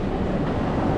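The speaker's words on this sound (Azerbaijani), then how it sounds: "Deməli, Pisanın qatar stansiyasından çatdıq və düşdük." A train at Pisa railway station in Italy, a short, steady, close rumble with no pauses.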